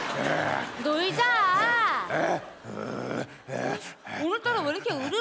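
A man in a Korean comedy sketch imitates a growling dog, with rough, wavering vocal growls and whines rising and falling close up across several seconds, broken by short pauses.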